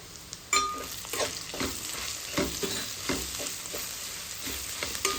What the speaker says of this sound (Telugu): ఇప్పుడు ఒక స్పూన్ కారం అయితే వేస్తున్నాను. వేసుకొని కలుపుకోవాలి.